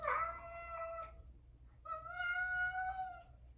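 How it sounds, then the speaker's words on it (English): Two drawn-out cat meows, the second longer and rising slightly, close by over a low background hum. "That's my cat."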